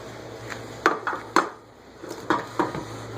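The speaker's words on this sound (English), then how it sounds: "And I use a large spoon to put this in there. In the pans because it's easier to handle." A large spoon scoops banana nut bread batter into small baking pans, making several sharp metallic clinks and taps in irregular pairs against a quiet kitchen hum.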